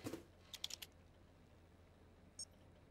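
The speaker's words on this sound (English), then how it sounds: "That's me typing that." Keyboard typing in the video game Stray: a quick burst of key clicks at the start, another short cluster about half a second later, then one faint click near the end, all clear and alone against quiet room noise.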